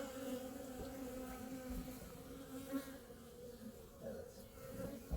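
Honeybees buzzing around an open hive during a beehive inspection, a steady droning hum with several overlapping pitches, fairly close but quiet and continuous, no talk.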